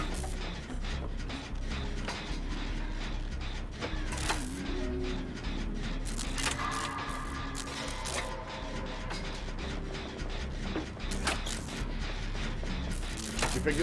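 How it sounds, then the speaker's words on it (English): Clicking, ratcheting mechanical rattle of a generator being repaired in the video game Dead by Daylight, continuous and busy with metallic ticks and clanks at moderate level. "Sounds like this generator up here is closer to this side."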